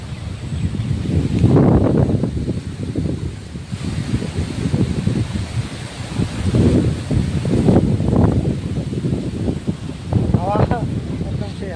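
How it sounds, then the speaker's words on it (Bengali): Strong wind gusts across an open village field after rain, buffeting the microphone with low rumbling roars that swell and fade repeatedly, loud and continuous throughout. "প্রচুর হাওয়া, হাওয়ার স্পিড খুব বেশি আর কি।"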